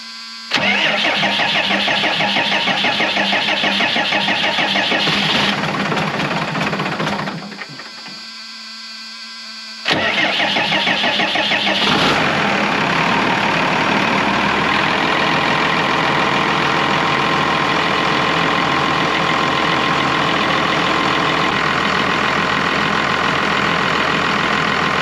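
A Cummins 6BT diesel engine in an Oshkosh plow truck, not run in over ten years, cranks and fires loud and close, stumbles briefly, then catches and settles into a steady rumbling idle.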